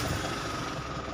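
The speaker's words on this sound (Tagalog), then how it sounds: "Ayan mga boss, buhay na yung makina." An Isuzu 4JJ1 diesel engine idles steadily at close range, a continuous low rumble with a faint mechanical knock running under it and no talking.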